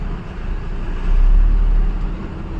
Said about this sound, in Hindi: जोनी भाई धीरे धीरे चढ़ावे है गाड़ी।